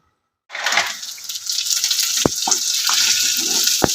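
Country chicken, village style, starts frying in hot oil after a brief silence. A loud, close hiss of sizzling holds steady, broken by a few sharp pops and clicks.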